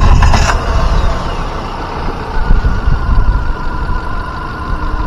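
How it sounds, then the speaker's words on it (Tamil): A 2021 Hyundai Santro with a petrol MPI engine idles close by, a low, quiet and steady hum after a short sharper noise at the start. "வாங்க வண்டியோட இன்ஜின் சவுண்ட் எப்படி இருக்குன்னு கேட்போம்."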